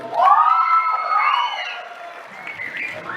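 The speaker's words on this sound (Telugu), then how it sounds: "ఆయన ముందే మాట్లాడుకుని చప్పట్లు కొట్టించుకున్నాడు బాలకృష్ణ" A crowd cheers and whoops loudly at a political speech event, with rising shouts and whistling voices for about three seconds before easing off.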